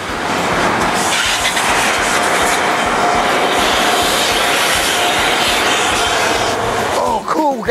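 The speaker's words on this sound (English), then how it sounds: "we got this little air blower right here. Get all the dirt out of our grill" A handheld air blower at a drive-thru car wash blasts dirt out of a car's grille, a loud, continuous, close rushing roar that lasts nearly the whole clip, with a voice breaking in at the very end.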